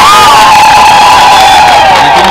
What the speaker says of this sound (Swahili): Naomba jipigieni makofi mengi sana.